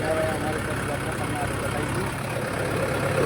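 A tractor engine runs steadily nearby in a farm field readied for ploughing, a constant droning rumble with a voice talking over it.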